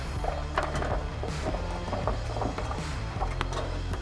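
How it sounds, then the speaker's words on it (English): Torx T30 screws are driven into the mounts of a Putco Molle bed panel system on a Jeep JT, giving repeated ratcheting mechanical clicks over a steady low hum, close up and without talk. "We can then take the T30 screws, throw a little blue Loctite on them,"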